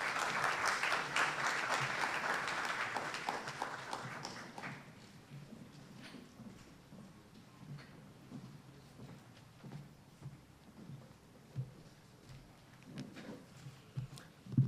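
Audience applause at a youth policy dialogue event rises briefly at the start, then fades into a quieter room with scattered claps, shuffling and knocks.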